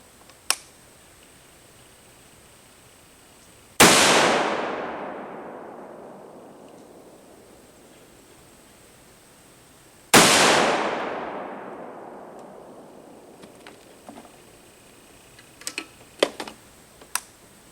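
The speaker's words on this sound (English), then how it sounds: "We're going to shoot the 165 grain Hornady." Two loud rifle shots firing 165 grain Hornady ammunition at a target range, each a sharp crack followed by a long fading rumble, about six seconds apart, with a few faint clicks and handling noises afterward.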